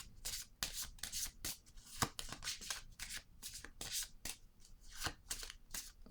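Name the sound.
shuffling tarot cards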